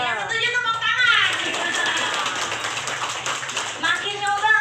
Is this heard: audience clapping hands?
yes